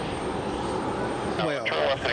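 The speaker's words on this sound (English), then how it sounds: "It's going to be JetBlue 1484 flying from Raleigh, Durham International to Boston." A JetBlue jet airliner taking off at Raleigh-Durham International Airport gives a steady, rushing engine roar, with someone talking over it in the second half.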